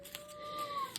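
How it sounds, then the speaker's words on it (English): An older house cat meows for attention in a single drawn-out, faint call against a quiet indoor background. "You'll hear the older cat meowing at me because she wants attention."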